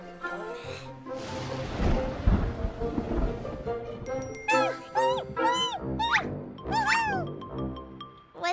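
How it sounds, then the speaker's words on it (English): Cartoon rain and thunder: a broad rumbling roll of thunder over steady rain, followed by bright musical tones and sliding voices from the cartoon. "It's raining."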